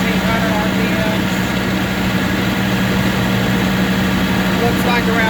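A John Deere 450C bulldozer engine running steadily at about 1800 RPM in second gear on high, a loud, constant low drone with an even hum, close by; someone speaks over it.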